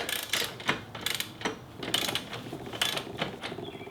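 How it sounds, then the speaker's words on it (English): Socket wrench on a 24mm axle bolt of a Kawasaki Ninja 250 during a tire change, giving a series of quick ratcheting clicks in short bursts, close and clear with no talking. "you need to somehow lock this while you undo this bolt"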